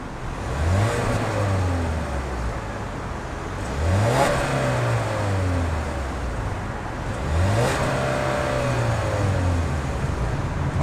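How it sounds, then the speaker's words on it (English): A 2017 Ford Fusion family sedan with a non-V6 engine revs close by in three rising pulls, each climbing in pitch and then settling back to a steady idle between blips. "let's start up this engine here for a moment so that you can hear that"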